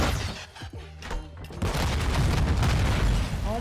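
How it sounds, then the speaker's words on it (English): A rocket explosion strikes the player in the video game Modern Warfare 2: a loud, sustained booming blast erupts partway through and rumbles on to the end. "I got direct impact by a rocket"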